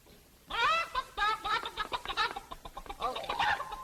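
Human voice imitating chicken clucking in an early 1950s children's television show, a rapid run of choppy, squawking clucks that starts abruptly and carries on for several seconds, close and fairly loud.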